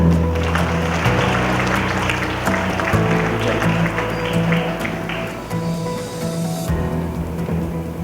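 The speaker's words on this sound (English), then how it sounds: "A warm applause, please." Applause from the audience at a Philippine National Police ITMS 54th founding anniversary ceremony: steady, dense clapping fills the room for several seconds over a low, constant hum, with no voices on top.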